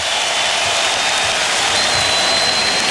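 Arena crowd at a 2008 NBA Finals Game 2 between the Boston Celtics and Los Angeles Lakers, a loud, steady roar of cheering and applause with a high whistle running through it.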